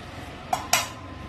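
An old metal cooking pan whose plastic handles have long since come off, used for tempering dal, gives two short, close metallic clanks about a fifth of a second apart in a quiet kitchen.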